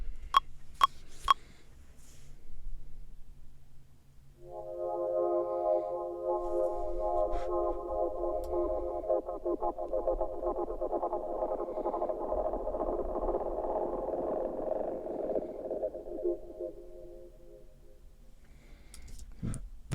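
A resampled synth tone in a minimal deep tech house production, heavily treated with echo and reverb, swells in after a few clicks and sustains as a smeared, ringing tonal wash that slowly decays to near silence.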